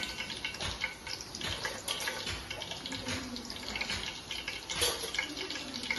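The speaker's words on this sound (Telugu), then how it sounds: "ఇందులో వాటర్ పోసి, అందులో ఆ వాటర్లో ఉప్పు వేసి కడిగేసిన ముక్కల్ని వాటర్లో వేసి పెడతాను నేను." Water pours into a vessel of salted water holding washed bitter gourd pieces, a soft continuous splashing trickle heard fairly faintly and close by.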